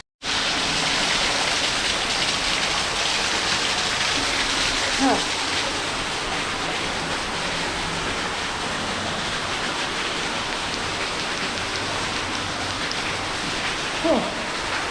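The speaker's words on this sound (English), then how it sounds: "the waterfall that runs over it is really flowing, so it's going to be wet getting inside" A waterfall flows hard over the entrance of an abandoned copper mine tunnel, a dense steady rushing roar that fills the whole stretch, near and loud, with a couple of faint brief knocks.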